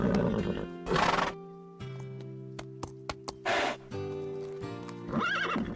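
An animated horse whinnies in loud, shrill bursts, several neighs with tonal quavering, separated by soft hoof clip-clops and quieter stretches.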